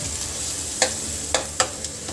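Onion, fennel and coriander paste frying with cumin in a pan, a soft steady sizzle broken by three or four sharp stirring clacks.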